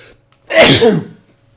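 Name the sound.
a person sneezing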